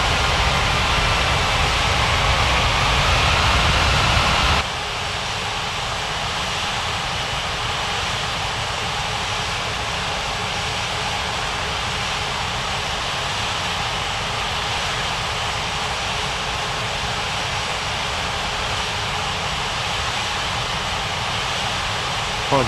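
An airliner rolls for takeoff in a Roblox air traffic control game. Engine roar holds steady and loud as a broad hiss the whole time, with a clear drop in level a few seconds in, and a voice speaks over it.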